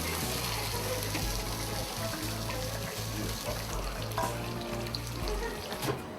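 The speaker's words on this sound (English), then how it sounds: "Then it goes into the deep fryer for 2 to 3 minutes until it's fully cooked." A tonkatsu pork cutlet deep-fries in a restaurant fryer, a continuous bubbling sizzle layered with steady low hum and kitchen background noise, no clear speech.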